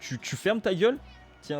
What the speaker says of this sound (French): Je suis désolé pour mon gros chat qui miaule là.